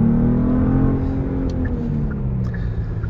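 A 2022 Genesis G80 with AWD and a V6, driven at night, pulls hard as its engine note climbs and swells steadily, loud and close from inside the car.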